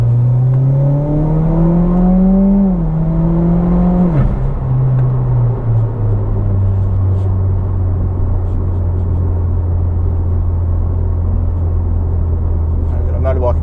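A Mitsubishi Evo X MR with a built SST gearbox and 10-plate clutches pulls with a loud engine note that climbs, drops sharply at a shift, then settles into a steady, droning cruise from inside the car.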